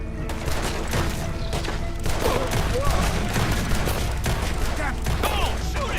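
A shootout in Red Dead Redemption 2 with dense, continuous overlapping gunfire, near and loud, under a raised voice and other game sounds.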